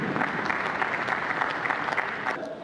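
A crowd bursts into steady, even applause in tribute to Fidel Castro, filling the short stretch without a break.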